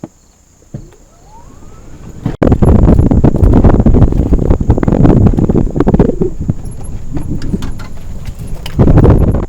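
A cart ride filmed on a Campark V40 action camera, with heavy wind buffeting and rumbling vehicle motion building suddenly and staying loud and close, after a quieter start with a faint rising tone.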